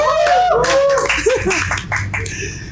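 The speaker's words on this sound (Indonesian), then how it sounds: "Tepuk tangan dulu, guys." A few people clap in a podcast studio, with short sharp claps mixed under excited voices and vocal exclamations that dominate at the start, then the clapping thins out.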